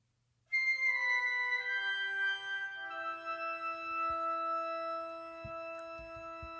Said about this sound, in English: So you have two flutes and an oboe.